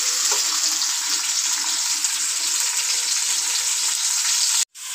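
Chopped onions added to a pan of hot oil with whole spices (garam masala, nutmeg, mace, black pepper, cumin, cloves) while cooking karela chicken keema: a dense, constant sizzle and hiss, loud and close, cutting off briefly near the end.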